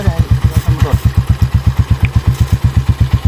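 A habal-habal motorcycle taxi engine runs close by, its rapid, steady thumping pulses beating in an even rhythm throughout.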